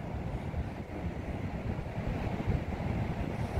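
Rough, furious sea and wind on the coast at Suances, Cantabria: a steady broadband roar of surf and gusting wind noise with no voices.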